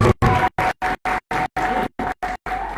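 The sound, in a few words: congregation clapping hands for the Lord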